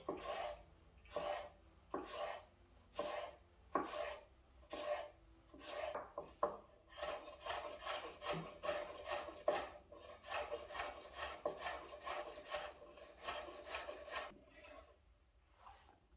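Knife cutting vegetables lengthwise into sticks for ratatouille: steady, close, rasping board strokes, first separated and then in a quick continuous run, with no speech.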